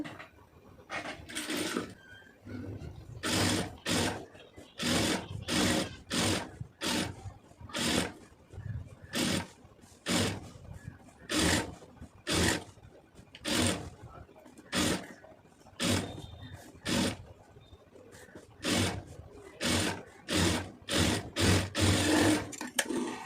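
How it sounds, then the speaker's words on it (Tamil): A sewing machine stitching the lining piece of a round neck runs in repeated short bursts, steady rhythmic whirring starting and stopping close by, with quiet background sounds between runs. "லாஸ்ட் வரைக்கும் ஒரு தையல் ஃபுல்லாக போட்டுருங்க"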